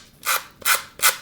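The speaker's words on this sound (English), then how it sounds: "I'm using my sanding block." Three rhythmic rasping strokes of a sanding block filing the edges of altered playing cards, each a short close scrape separated by brief pauses.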